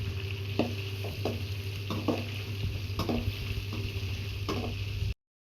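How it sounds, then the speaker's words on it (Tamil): Three onions frying in a pan for a spicy chicken gravy, a continuous sizzle under a steady low hum, broken by regular spoon scrapes roughly every half second to second, with no voices. "3 வெங்காயம். போட்டுட்டு நல்லா கலந்து விடணும்."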